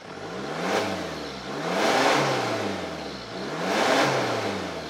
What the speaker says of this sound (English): It's got a snorkel that you can hear really, really vocally when you're driving.